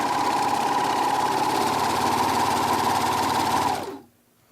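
A serger runs steadily while sewing off a knit seam, a fast, even mechanical chatter with a strong motor hum, loud and close, continuing for about four seconds before cutting off abruptly into silence.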